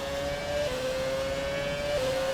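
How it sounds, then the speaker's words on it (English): A Ferrari F2004 Formula One car in the F1 2017 video game holds a high, steady engine whine with slight pitch shifts, loud and close throughout, no voices. "The other F2004 drives straight through us."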